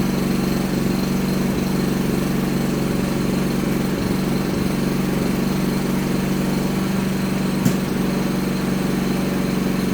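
Philking PK4200 inverter silent generator running steadily with a constant low engine hum and drone throughout, moderately loud and near, with a brief sharp click partway through and no talking.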